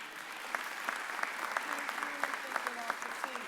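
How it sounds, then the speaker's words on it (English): Applause at a mayor's press conference on an extended school year: a steady patter of many hands clapping at moderate distance, with sharper individual claps poking through, fairly quiet overall. "Let's clap him up as well"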